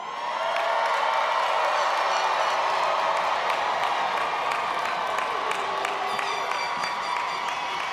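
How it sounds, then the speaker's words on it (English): A graduation crowd of parents cheers for their graduates at a high school commencement, a dense, steady roar of shouts, whoops and scattered clapping that swells in and holds loud and unbroken throughout. "parents, I want you to please cheer on your graduates to show them how proud you are"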